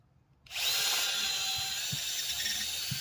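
Power drill with a bit boring through material: a sudden close, loud whirring grind kicks in after a short quiet and runs steadily, with a few soft knocks underneath.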